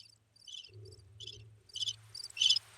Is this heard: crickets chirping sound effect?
yes